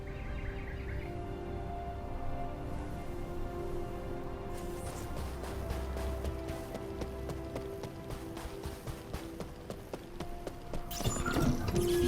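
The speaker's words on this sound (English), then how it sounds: "I memorized the sound of your footsteps." Rapid footsteps of a character running in the video game The First Descendant, a steady patter of quick, close steps over a continuous ambient game soundscape with tonal hum and no speech.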